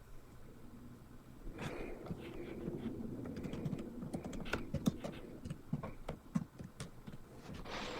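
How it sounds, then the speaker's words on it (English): Typing on a computer keyboard, one-handed: quiet, irregular clicky keystrokes in uneven bursts, fairly close over a low background hum. "We're typing one-handed now."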